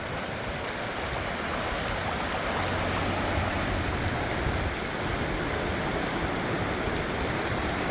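A river flows steadily past a gold prospecting spot, giving a dense, continuous rushing wash of water that stays close and even with no talking.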